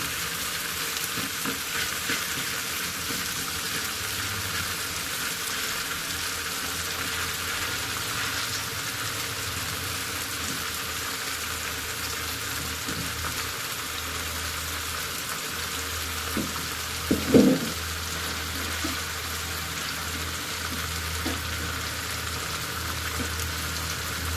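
Puti fish fry in a pan with a steady, even sizzle throughout, low rumbling underneath and a brief utensil clatter past the middle, no talking.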